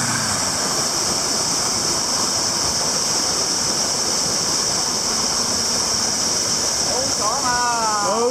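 A mountain-stream waterfall roars close and constant, a dense hiss of falling water that stays loud throughout, with a brief pitched sound rising near the end.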